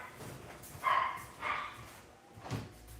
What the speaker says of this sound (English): What is that silly dog barking at?